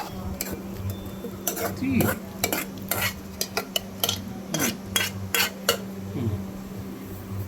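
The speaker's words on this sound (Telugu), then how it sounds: "ఈ బీరకాయను మొత్తం దీంట్లో కలుపుదాం" Boiled ridge gourd is stirred into a chutney mixture in a pan, with repeated spoon scrapes and clinks over a faint sizzle, and a voice speaking briefly.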